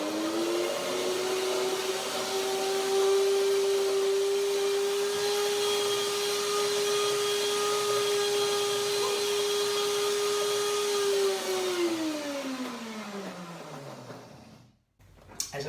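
A blender whirs at a steady high pitch as it blends a chocolate date praline mixture of cacao, running loud and close before winding down and cutting off near the end.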